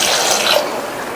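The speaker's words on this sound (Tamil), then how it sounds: "பொங்குற அளவுக்கு தண்ணி" Water pouring steadily into a cooker pot with baby potatoes, a continuous close rushing splash lasting about a second.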